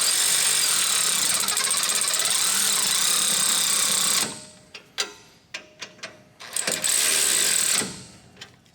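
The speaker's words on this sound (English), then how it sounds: "And then I'm just going to bring them down to touch with my electric ratchet." An electric ratchet runs continuously while snugging brake caliper bolts on a Ford F-series pickup's rear brakes, then gives several short bursts and clicks after it stops, close and fairly loud.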